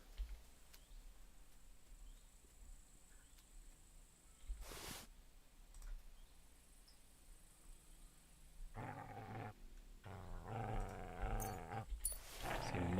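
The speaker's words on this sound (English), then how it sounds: "See MUTT's barking" Mutt the dog barks in Kingdom Come Deliverance 2, a burst of loud, rough barks near the end following a quiet ambient stretch with a single sharp knock midway.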